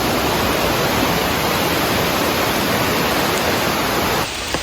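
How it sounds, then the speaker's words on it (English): Water flowing steadily in a stream along the Appalachian Trail, a loud, continuous broadband rushing close by, unbroken until it drops away near the end. "water is definitely flowing today."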